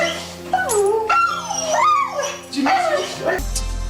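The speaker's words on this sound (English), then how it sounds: "It's like his dog is telling him all about what happened while he was gone." A dog howls and whimpers in long, rising and falling wails, close and loud, greeting its owner returning home, with a brief low rumble near the end.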